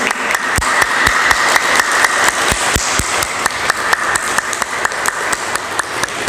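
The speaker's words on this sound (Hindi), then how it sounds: "तालियां बजा के आवाज़ पहुँचा दो कि फटाफट से पहुँच जाए" Loud, rhythmic group clapping from women gathered at a Women's Day yoga event, sharp claps in a fast, even beat, close and continuous without any talking.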